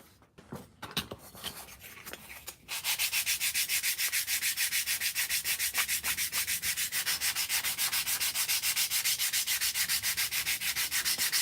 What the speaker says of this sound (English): This is 120 grit sandpaper